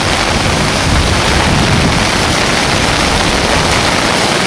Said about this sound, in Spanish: Vemos el salto de agua.